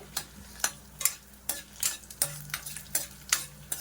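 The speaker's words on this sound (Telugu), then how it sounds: "ఇదిగోండి, ఇంకొద్దిగా ఫ్రై అవ్వాలి ఈ రెండు." Tomato pachadi ingredients, garlic among them, fry in a pan. A utensil scrapes and taps in a quick, regular rhythm, about two or three strokes a second, over a faint sizzle.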